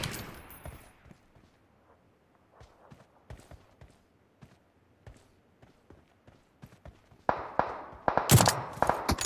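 Sharp gunshots from a PUBG Mobile match ring out as scattered single cracks, then thicken into a louder, denser burst of rapid fire near the end.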